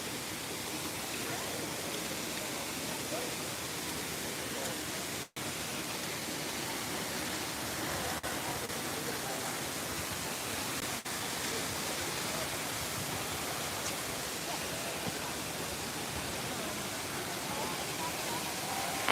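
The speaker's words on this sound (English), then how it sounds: "it's one of my favorite waterfalls." A waterfall at Disney's Animal Kingdom rushes in a steady, broad roar that fills the whole stretch, with only a couple of brief dips and no voices over it.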